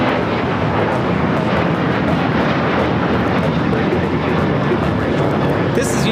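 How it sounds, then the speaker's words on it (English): A United Airlines Boeing 737-800 takes off from LAX bound for Puerto Vallarta, its jet engines roaring in a loud, sustained wash of noise that stays strong throughout. "This is United Airlines 319 taking off to Puerto Vallarta on the 737-800."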